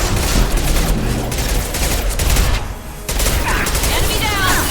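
Combat in Mass Effect 2 with a Concussive Shot power firing amid dense, loud continuous gunfire and explosions, a brief dip partway through, with speech mixed in.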